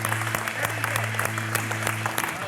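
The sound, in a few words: crowd applauding a car unveiling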